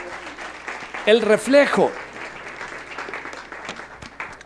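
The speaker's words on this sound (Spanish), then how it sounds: "Denle un aplauso al Rey de Gloria." A church congregation applauds during a Sunday sermon; broad, steady clapping runs throughout, swelling briefly in the middle, while a preacher speaks over it.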